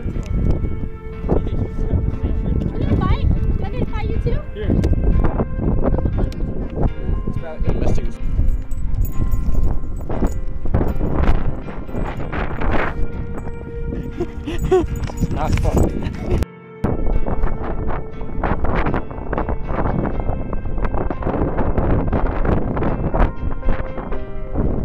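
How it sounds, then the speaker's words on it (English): Strong wind buffets a microphone outdoors on a running track during interval runs, a loud continuous rumbling roar with gusty surges, brief thumps and one short dropout. "Windy as a heck."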